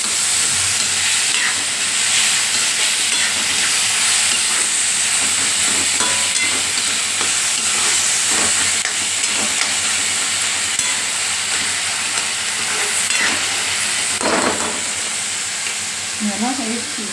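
Onion and tomato sizzle together in a hot tempering of garlic and chilli, a steady close frying hiss with scraping stirs breaking through now and then.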